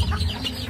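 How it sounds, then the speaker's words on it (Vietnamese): Chickens clucking close by on a small farm where a single duck lives among the flock, a short burst of soft, steady clucks with no talking. "Mà con vịt này nó sống với mấy con gà vậy hả cô Út?"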